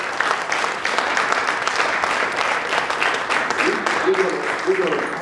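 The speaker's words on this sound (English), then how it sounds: "I want you to give them a big round of applause." Crowd applause for House and Senate representatives at a restoration of civil rights event, a sustained round of clapping with a voice talking over it near the end.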